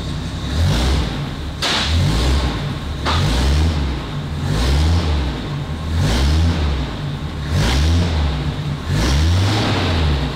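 A 1950 Pontiac Chieftain engine runs steadily near the exhaust, a loud rhythmic pulsing chug with regular surges roughly every second and a half, alone without talk.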